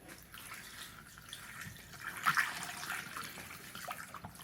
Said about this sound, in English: We're going to flush it with a gallon of distilled water.